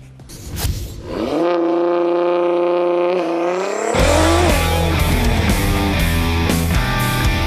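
A Nissan GT-R R35 sports car revs and accelerates hard, its engine note climbing loudly and steadily through the gears, close and dominant, with a tire squeal and no talk.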